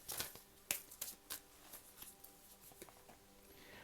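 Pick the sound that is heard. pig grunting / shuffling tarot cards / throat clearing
shuffling tarot cards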